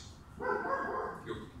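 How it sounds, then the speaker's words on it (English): A dog barking once, a short, moderately loud bark heard from a little distance inside a room, followed by a fainter trailing yelp. "That's my dog going as well, barking at the hobos."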